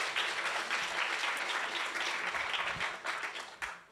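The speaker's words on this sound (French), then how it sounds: "Je pense qu'on peut les applaudir." Audience applause at a talk with women from Marseille: dense, steady clapping from a crowd that fills the whole stretch, with no voices over it, then thins slightly near the end.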